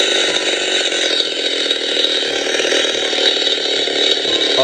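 A Leatherface '74 replica chainsaw prop switched on gives a loud, steady mechanical engine rattle that runs unbroken and close, with no speech over it.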